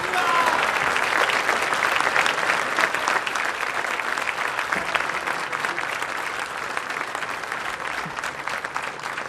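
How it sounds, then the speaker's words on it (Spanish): Sustained audience applause at the Bolsa de Comercio de Córdoba after a speech by Argentine president Javier Milei: a dense, loud, continuous wash of clapping from a large crowd, steady for the full length and easing slightly toward the end. "Agradecemos y despedimos con este fuerte aplauso al señor presidente de la Nación"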